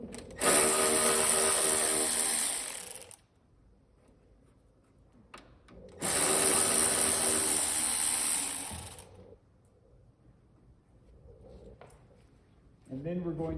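A power tool driving out canvas bolts on a myTop soft top, heard as two sustained, loud whirring bursts of about three seconds each, separated by near silence, with a brief fluttering start at the end.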